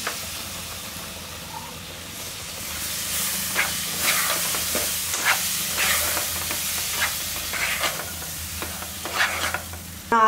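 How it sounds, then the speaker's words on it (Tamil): Tomatoes for a prawn gravy sauté in hot oil in a pan, a continuous sizzle broken by stirring scrapes and a few sharper spatters toward the end. "இப்போ எல்லாம் ஒண்ணா போட்டு வதக்கிடலாம் இதில நான் என்ன பண்ணிருக்கேன் ரெண்டு மீடியம் சைஸ் தக்காளி எடுத்து வச்சிருக்கேன் இந்த தக்காளியை இதல ஊத்திக்கலாம்"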